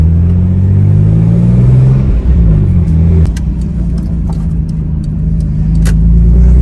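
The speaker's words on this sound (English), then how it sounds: "once you turn, obviously you get that grinding clunk in there" A Toyota Supra MK4 fitted with a Tomei limited-slip differential takes a turn under throttle. A steady, loud engine drone runs throughout, broken by several sharp clunks and a rough grinding from the driveline partway through.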